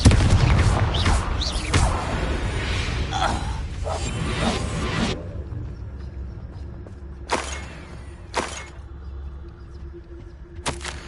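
A Confringo fire spell from Hogwarts Legacy erupts in a loud, dense fiery blast with swooshing bursts over the first five seconds, followed by a quieter spell ambience broken by two or three sharp whooshing strikes.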